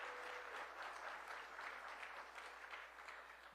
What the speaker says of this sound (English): So please give Diana and her team a big round of applause